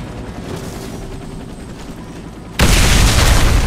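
A steady rumbling din in Warface gives way to a sudden loud, broadband bomb blast that roars on without letting up.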